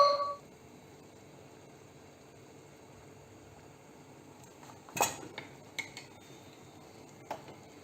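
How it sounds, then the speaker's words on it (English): A spoon clinks against a bowl of carrot and bottle gourd soup while swirling in cream, a few sharp metallic taps and scrapes scattered over quiet background. "Much needed swirl of cream."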